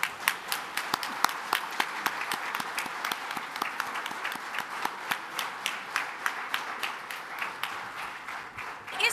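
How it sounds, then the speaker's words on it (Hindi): Audience at an Eid Milan celebration applauds a young girl, a steady dense clapping with sharp individual claps standing out, sustained throughout without talk. "आप खड़े होकर एक बार हिंदुस्तान की इस बेटी के लिए ताली ज़रूर बजाइए"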